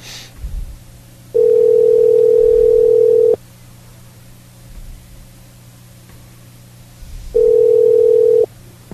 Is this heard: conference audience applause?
no